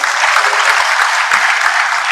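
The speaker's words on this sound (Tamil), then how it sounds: "அவருக்கு பெரிய கைத்தட்டல் வேண்டும்." An audience applauding a cardiologist's speech in Chennai, with loud, sustained clapping filling the hall evenly from start to finish.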